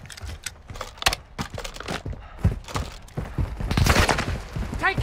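Video game gunfire in scattered sharp cracks and short bursts, some near and some more distant, building toward a denser exchange at the end.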